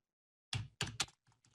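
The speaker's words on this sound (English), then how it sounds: "I'm going to type in here" Typing on a computer keyboard: a few quiet, close key clicks in a short irregular burst, then two fainter taps, with silence around them.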